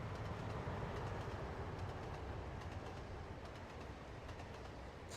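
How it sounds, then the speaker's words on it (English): A train in the Trainz Simulator 2 video game runs on the Hawes Junction route as a steady, dense rumble with a faint rhythmic wheel clatter, continuous and even throughout, with no voices. "Oh, what is this train?"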